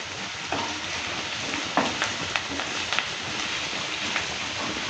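Chopped garlic frying in oil in a pan while being stirred, a close, even crackling sizzle broken by a few light spatula scrapes, with no speech.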